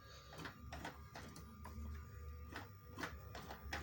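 An old Janome sewing machine stitching, a rapid mechanical clatter of needle strokes in an irregular rhythm, fairly faint and close, with no voices.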